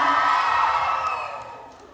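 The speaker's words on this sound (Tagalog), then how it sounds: "wala bang palakpakan dyan? Wala bang sigawan dyan?" A pageant audience cheers and shouts in a loud, sustained roar of voices with high whoops, gradually fading toward the end.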